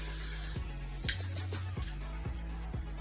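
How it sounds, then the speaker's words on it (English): Freeze spray from an aerosol can on hair, heard as a soft, quiet hiss in short bursts with a fairly regular rhythm, close by and without talk. "the freeze spray is in the aerosol can, so it doesn't come out as wet"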